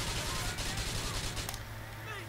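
Gunfire rattles in Grand Theft Auto IV during a deal gone wrong, a dense stretch of sharp shots and crackling volleys that thins out near the end, with a voice mixed underneath.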